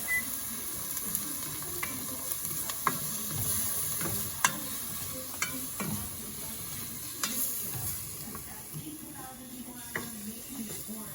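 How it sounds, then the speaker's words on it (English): Onions and garlic sautéing in a pan for lasagna sauce, with a steady close sizzle and occasional scraping stirs and clicks of the utensil. "we're gonna saute this for a little bit until the onions are translucent"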